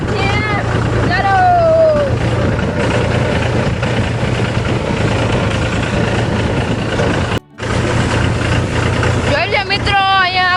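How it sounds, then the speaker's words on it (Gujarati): Tractor engine running on the way to a farm, a steady low rumble that continues under a voice, with a brief dropout near the end. "થોડીક વાર પછી આપણે ટ્રેક્ટર લઈને જવાનું છે ખેતરે"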